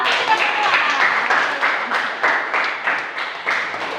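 A classroom of students applauds together, a dense, steady round of many hands clapping close by for the full stretch, with the beats faintly surging in regular pulses.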